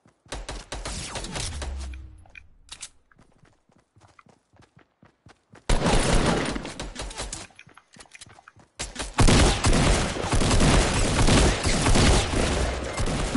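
Gunfire from a shooter video game comes in dense, loud bursts of rapid shots, broken by sparse single cracks and a quieter pause.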